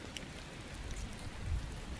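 Rain falls outdoors in a garden with trees, a soft steady hiss of drops with no speech.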